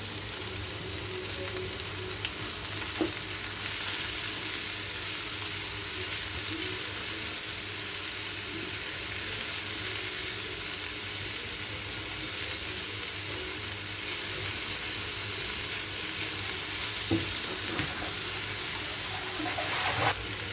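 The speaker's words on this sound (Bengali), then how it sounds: "পেঁয়াজ কুচিটা সামান্য একটু লাল হলে আমি আমার সেদ্ধ করা সবজিগুলোকে দিয়ে দেব।" Chopped onion and boiled mixed vegetables fry in a pan, giving a steady low sizzle with occasional stirring knocks over a constant background hum, moderately close and fairly quiet, with no voices.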